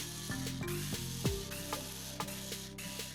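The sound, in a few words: electric screwdriver removing screws from a Gardena lawn mower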